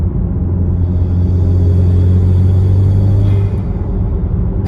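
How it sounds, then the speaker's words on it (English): A 2.0T Camaro engine with a Mishimoto cold air intake holds a deep, steady drone, close and loud, during a brake boost in fourth gear, a sustained low rumble easing slightly near the end. "And then a brake boost in 4th gear."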